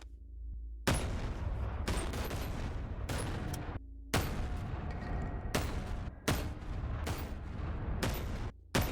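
An M4 semi-automatic shotgun fires in a video game, about seven loud, booming blasts at uneven intervals, each with a sharp attack and a sustained rumbling tail, with short silent gaps between them.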